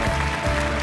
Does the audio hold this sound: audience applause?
yes